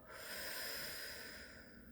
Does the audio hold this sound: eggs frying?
no